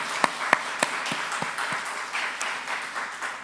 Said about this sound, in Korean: 우리 선생님들 향해서 우리 격려의 박수 한번 할까요?